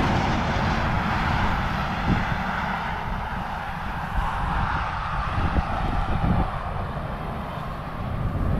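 A steady engine drone fills the whole stretch, like a small helicopter flying overhead at moderate distance, continuous with no talk.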